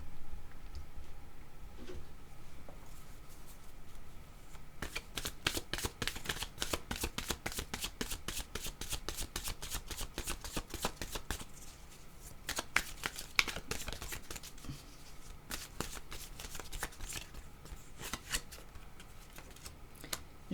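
A deck of oracle cards is shuffled in a long run of quick riffling flutters, close and fairly soft, with a brief pause partway through and no talking.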